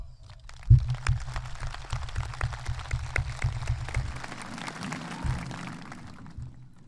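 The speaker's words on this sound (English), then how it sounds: "so let's give a big round of applause." Scattered clapping from a high school graduation audience, with dense low rumble and crowd noise throughout and a sharp thump near the start; the applause is fairly loose and fills the whole stretch without clear speech.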